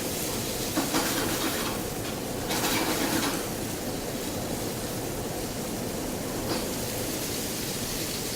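Lamb searing in a hot pan, a steady broadband sizzle that fills the whole stretch at constant loudness, with no voices over it.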